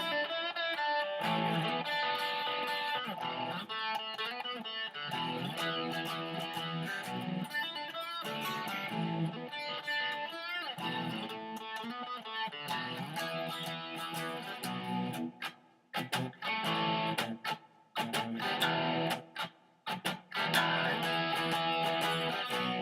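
Distorted electric guitar plays the opening section of a rock song, a steady run of driven chords and riffs that stays loud and dense with only a few brief breaks near the end.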